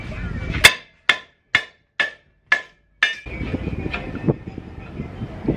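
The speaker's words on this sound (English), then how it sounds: "Need a hammer." A bent part on a Nissan 350Z struck with a hammer: six sharp metallic blows at a steady pace, then scraping and handling noise.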